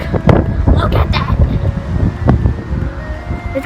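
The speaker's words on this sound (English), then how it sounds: "That's how windy it is." Strong gusty wind buffets the microphone outdoors near trees on a windy day, a loud continuous roar with rustling surges and no speech.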